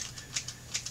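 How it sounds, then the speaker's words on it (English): Scissors snipping into the hair of a styled cosplay wig, several quick, light, crisp snips spaced irregularly, close and fairly quiet. "If you're going to be using scissors like these, which you can, you want to make sure that you're cutting into the wig."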